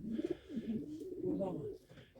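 Several pigeons coo softly and repeatedly at close range inside a coop, their low, throaty calls overlapping in a quiet enclosed space.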